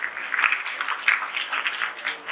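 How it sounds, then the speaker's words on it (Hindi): An audience claps in a hall during a teachers' training workshop, a fairly faint but steady patter of many hands with small swells, carrying on without voices. "एक जोरदार ताली दोनों के लिए भी हो जाए"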